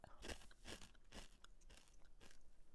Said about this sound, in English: I'm eating Chex Mix, so if that's too crunchy,